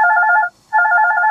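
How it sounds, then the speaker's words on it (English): An electronic phone ringtone sounds twice, steady two-tone bursts separated by a brief pause, loud and close with no talking. "Excuse my phone ringing."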